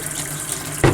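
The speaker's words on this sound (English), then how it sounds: "I wash my hands again" Hands washed under a running kitchen tap between breading chicken, a steady splashing water stream that swells into a louder gush near the end.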